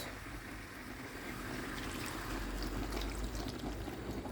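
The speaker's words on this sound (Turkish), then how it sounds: "Şimdi biraz da suyumuzu ekliyoruz" Water is poured into a pot for a celery dish being cooked with oil, a steady close trickling wash that runs on without any speech.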